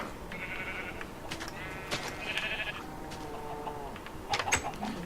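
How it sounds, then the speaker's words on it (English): Sheep bleating in the Minecraft video game, several nasal bleats in a row over a steady game background, fairly close and clear, with no talking. "If you sheep would pay a little more attention to eating and less attention to escaping"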